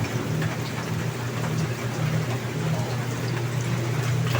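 Steady rain falls outdoors during wood-fire cooking in the Philippines, a dense continuous hiss with a low rumbling undertone and no talk.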